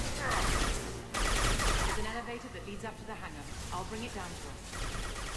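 Rapid gunfire in the video game Mass Effect 2, dense bursts mixed with game effects and music, with someone talking over it.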